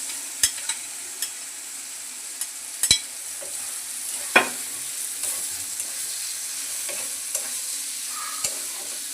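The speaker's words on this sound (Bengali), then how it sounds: "এখন ভেজে রাখা চাল, আলু আর পটলগুলোকে দিয়ে দিচ্ছি।" Fried rice, potatoes and pointed gourd go into spices frying in a pot, making a faint sizzle under a handful of sharp spoon clinks and scrapes spread across the stretch.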